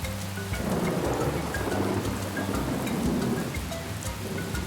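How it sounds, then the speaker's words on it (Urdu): Heavy rain pours steadily over a forest as thunder rumbles low beneath it, forming a dense, continuous storm sound effect throughout with no voices. "پھر تیز بارش شروع ہو گئی اور ساتھ ہی آسمانی بجلی کی چمک نے جنگل کو روشن کر دیا"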